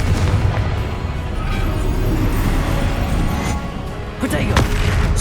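Blasting spell explosions in Hogwarts Legacy, several booming bursts in a loud continuous battle din with sharp cracks near the end and a voice speaking over them.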